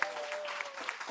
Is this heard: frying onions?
no